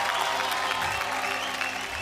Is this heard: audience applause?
yes